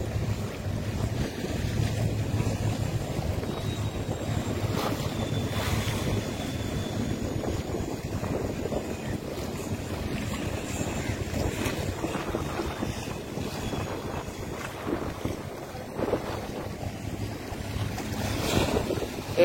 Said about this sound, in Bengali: এই যে দেখছেন সি বোট যাচ্ছে।